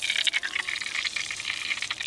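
Warm water streams steadily from a hose used to wash down the engine of a greens roller, a continuous broadband hiss and splatter with a dense, even rush and no talking.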